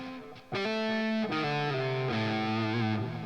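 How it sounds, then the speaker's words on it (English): A distorted, guitar-like electronic menu tone from Rocksmith 2014 for the lead path holds steady, then shifts pitch a few times in sustained, harmonically rich chords with no talking. "you can hear the menu tone for lead path sounds like this"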